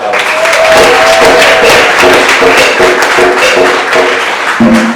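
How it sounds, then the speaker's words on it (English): Audience applause fills a room at a food tourism event, dense steady clapping that stays loud and close throughout with a few louder taps near the end. "let's clap for SCI"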